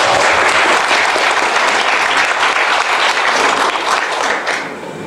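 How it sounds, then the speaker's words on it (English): Loud, dense applause from a seminar audience fills the room steadily, then tapers slightly toward the end. "give yourself a round of applause."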